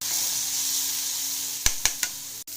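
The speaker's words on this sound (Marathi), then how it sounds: "आता मी याच्यामध्ये ना मिरची, जिरं आणि लसूण ठेचून घेतलेला टाकला" Crushed chili, cumin and garlic sizzling in hot oil for palak recipe, a steady close hiss broken by a few sharp crackling pops near the end.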